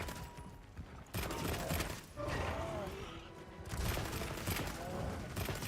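Rapid bowgun fire from Monster Hunter Wilds, shot while mounted on a monster, rattles in dense bursts amid clanking game mechanisms and creaks, moderately loud with brief gaps between volleys.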